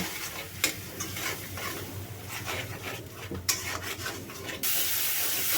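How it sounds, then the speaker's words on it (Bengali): Turmeric, chili and coriander powder fry in a pan for a magur fish curry, giving a steady close sizzle with scraping stir strokes and occasional sharper hits, then a brighter, louder hiss near the end. "হলুদের গুঁড়া মরিচের গুঁড়া ধনিয়ার গুঁড়া দিয়ে কিছুক্ষণ কষিয়ে নিব"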